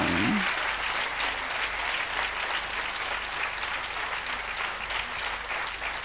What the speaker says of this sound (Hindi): इस बाबत तो आपको बहुत तालियां बजानी चाहिए